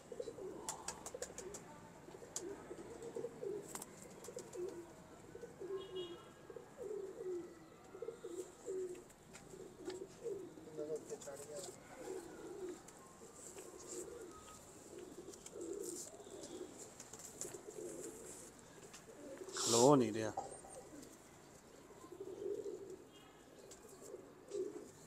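Pigeons of a black-faced breed coo repeatedly at low volume in a continuous murmur, with one sharper, louder call near the end and faint chirps in the background.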